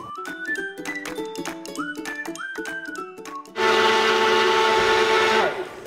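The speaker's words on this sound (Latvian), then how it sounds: "Mēs sākumā liksim skābu krējumu, olu, cukuru un piparmētru blendējumā traukā un to visu sablendējam." Music plays for a few seconds, then a loud blender mixing sour cream, egg, sugar and mint for cake batter kicks in with a steady whirring roar that runs continuously before cutting off.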